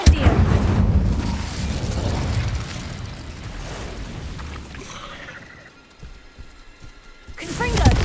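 Incendio fire spell cast in the Hogwarts game: a loud, roaring burst of flame and impact from the start, rumbling and crackling for several seconds before fading, then another sharp hit at the end.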